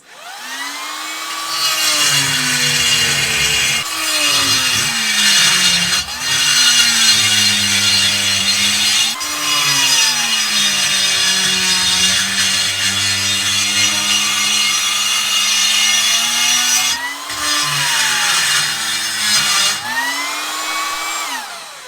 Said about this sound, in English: Time for the carbide burr.